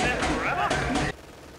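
Rapid machine gun fire from Company of Heroes 2 crackles in dense bursts under someone talking over the game, then cuts off abruptly partway through.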